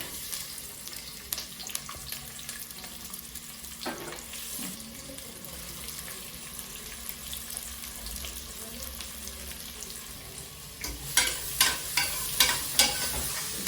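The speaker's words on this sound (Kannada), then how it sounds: "ನೋಡಿ ಕರಿಬೇವೆಲ್ಲ ಸೌಂಡ್." Curry leaves and chopped onions frying in hot oil, giving a continuous close sizzle and hiss with occasional stirring scrapes, then sharper rhythmic clatter near the end; no voices.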